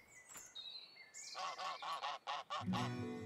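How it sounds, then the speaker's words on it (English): A run of five loud, evenly spaced synthetic goose honks from the game Let's Build a Zoo, preceded by electronic chimes and ending with a low tone. "we have a new baby goose"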